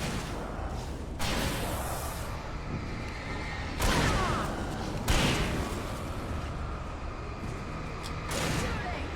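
Gunfire in the horror game Alan Wake Remastered: four heavy, booming shots spaced a few seconds apart, loud and close over a constant rumbling background.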